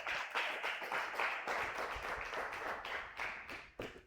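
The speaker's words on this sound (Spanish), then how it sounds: "Dame un fuerte aplauso al Señor" Congregation at a Spanish-language church service clapping together, a dense steady patter of many hands sustained close by throughout.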